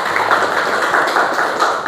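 Students in a classroom clap their hands together in a dense, continuous burst of overlapping claps, close and loud, lasting under two seconds.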